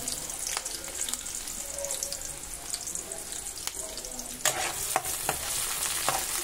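Onions frying in hot oil for an egg fry, a steady close sizzle with scattered sharp clicks of a spatula against the pan, no voices.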